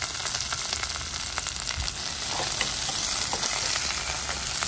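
Garlic, curry leaves and green chillies sizzle in hot oil for an eggplant dish, a dense steady crackle with occasional stirring scrapes, close and continuous with no voices.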